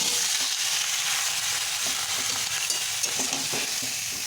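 Turmeric and salt stirred with a spatula in a pan holding only a little oil, giving a steady close sizzle with soft scraping throughout and no talk.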